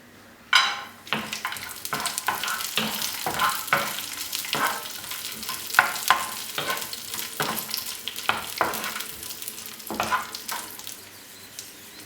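Nuts and raisins sizzle in hot ghee in a pan for Malabar unnakkaya, with a bright crackling fry broken by repeated stirring scrapes and clatters, close and fairly loud.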